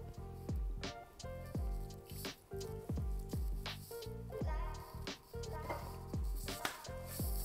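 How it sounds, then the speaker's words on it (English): Chocolate sauce squeezed from a bottle into a vodka cocktail makes a rapid series of wet squelching spurts, close and fairly quiet, with short pauses between squeezes. "And you wanna put some chocolate sauce."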